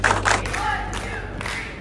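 An audience at a motivational speaking event claps in unison, loud sharp beats heard several times within about two seconds, mixed with crowd shouts.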